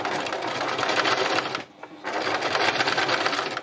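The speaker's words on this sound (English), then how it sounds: "I've just started stitching along here in a very simple way, and I'm just taking the pins out as I go" A sewing machine stitches fabric in a close, steady whirring run, stopping briefly for a moment near the middle before starting again at the same even pace.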